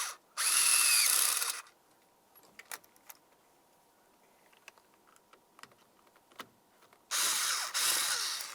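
A power drill fitted with a T20 socket drives screws while a combination switch goes onto a 2003-2011 Mercury Grand Marquis steering column, with two short loud whirring bursts close by and light clicks and taps between them.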